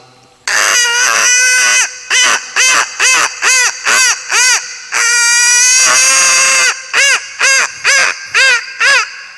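A voice imitates a hen cackling while laying an egg, with a long strained squawk and then a run of loud, rhythmic, nasal clucking bursts, close and clear on a comedy stage show.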